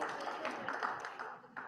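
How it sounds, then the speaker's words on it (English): Audience applause in a lecture hall, a dense patter of clapping that stays fairly steady for under two seconds and fades slightly toward the end. "They're clapping already for it."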